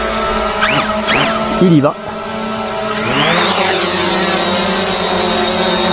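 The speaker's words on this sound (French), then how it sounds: "Et je vais donc faire un décollage du X8." A FIMI X8 drone spins up and lifts off nearby, its rotors rising from a low hum to a steady high-pitched whine. Someone speaks briefly in French over the motors.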